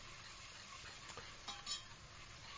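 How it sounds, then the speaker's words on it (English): Spices stirred through hot oil in a pan while cooking a chicken curry, a faint steady sizzle under a few soft scraping strokes and light clinks of a utensil. "give that a good stir"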